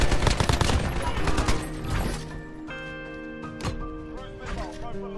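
Rapid video game gunfire with crashing impacts as an enemy destroys a sentry gun, loud and dense at first and then thinning out into scattered shots and mechanical sounds, with players talking over it.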